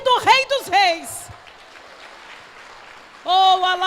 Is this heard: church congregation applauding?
yes